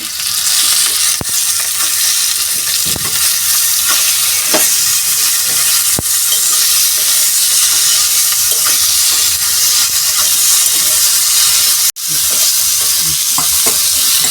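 Dry greens sabzi (sukhi bhaji, a spiced leafy vegetable dish) is stirred and scraped in a hot pan, giving a steady, loud sizzle with repeated spoon strokes and a few sharp clicks throughout.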